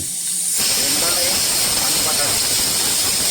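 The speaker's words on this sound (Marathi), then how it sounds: "हे शेंगदाणे तेलावरती परतून घेतोय" Peanuts frying in hot oil, a loud steady hiss and crackle that bursts in after a short quiet start and holds evenly close up, with a voice talking over the sizzle.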